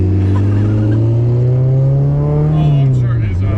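A K-swapped Subaru STI drives past nearby, its engine note rising in pitch as it approaches, then dropping away as it passes, loud and alone.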